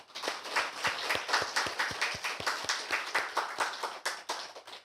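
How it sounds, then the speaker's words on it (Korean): A church congregation at a New Year's Eve thanksgiving service claps in a steady, even rhythm, about three sharp claps a second with many hands together, moderately loud in the hall and free of talk. "우리 하나님께 박수로 영광 돌리겠습니다."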